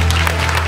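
Audience applause at a stage show, a dense burst of clapping filling the short moment, loud and close with a steady low hum underneath.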